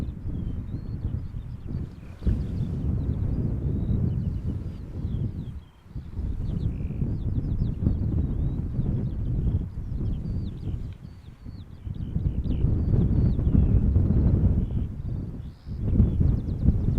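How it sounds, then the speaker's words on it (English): Strong wind blowing steadily across an outdoor plane-spotting spot at Schiphol Airport, heard as a continuous low roar and rumble buffeting the microphone, with gusts that rise and fall. Faint high chirps of birds come through now and then. "Wind is picking up."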